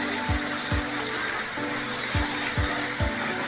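Flowing water at the second tier of a mountain waterfall makes a steady broadband rush, with a few soft rhythmic thumps underneath and no voices.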